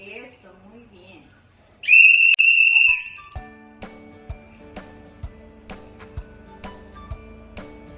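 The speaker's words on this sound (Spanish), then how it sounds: "se sonaba el silbato Y3 para que se acercara a la entrenadora" A single sharp, high dog training whistle blast lasting about a second, followed by steady rhythmic clicking or tapping sounds.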